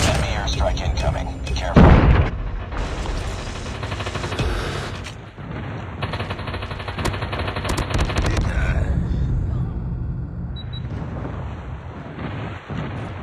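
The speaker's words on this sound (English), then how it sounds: "Enemy airstrike incoming" Heavy explosions and gunfire from an enemy airstrike in a video game battle, a loud blast early, then continuous rumbling detonations and rattling shots, with voice callouts over the din.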